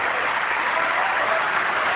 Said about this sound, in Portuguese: Vamos aplaudir mais o Senhor Jesus, igreja.